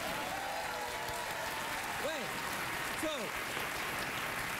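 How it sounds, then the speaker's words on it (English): A studio audience at a late-night talk show applauds for a guest from Australia, a steady wash of clapping running beneath a voice. "Australia gets a round of applause"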